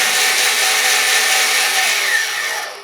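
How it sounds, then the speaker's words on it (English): The electric motor of a Mighty Mule gate opener arm spins its screw in a loud, steady high-pitched whine that holds constant, then tapers off slightly at the very end. "If I turn this motor on, you can watch it turn."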